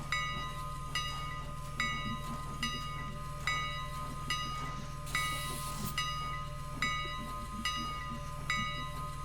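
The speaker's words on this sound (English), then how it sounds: "Okay, so that's the whistle." Steam locomotive in the railroad video game Railroader, with a sustained whistle tone over a steady hiss and rhythmic rail clatter.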